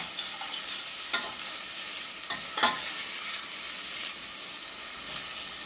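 Drained pinto beans and Rotel for ranchero beans cook in a pan with a steady close sizzle, broken by a few sharp scraping stirs of a utensil.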